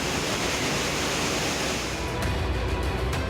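Floodwater rushing through the streets of Gandhi Nagar, Jaipur, after heavy rain, a steady, dense roar of churning water that holds close and loud throughout, with a few sharp splashes near the end.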